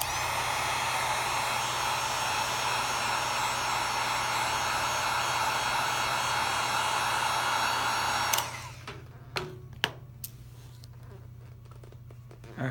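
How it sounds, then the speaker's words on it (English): A heat gun blows a loud, steady roar while softening the battery adhesive inside an iPhone 5S, then switches off about two thirds through, leaving a few faint clicks and handling noises. "So let's use the heat gun."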